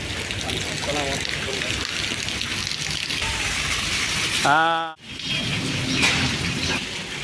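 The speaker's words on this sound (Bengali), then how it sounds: "বৃষ্টি মোটামুটি আলহামদুলিল্লাহ থামছে" Rain falling outdoors makes a steady, close hiss throughout, with a brief tonal, horn-like sound rising near the middle before a sudden momentary dropout, then the rain wash resumes.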